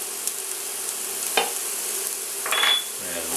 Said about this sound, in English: And saute those until they're fragrant.